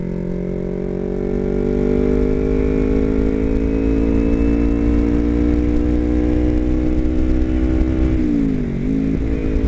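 Motorcycle engine heard steadily while riding with the throttle eased off, a loud continuous drone with harmonics slowly falling as speed drops, then a brief dip near the end; no talking.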